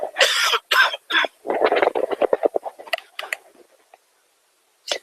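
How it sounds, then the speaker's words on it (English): A person coughs repeatedly at close range, a few harsh coughs followed by a rapid string of smaller hacking coughs that fade, then one more. "the coughing is continuing here"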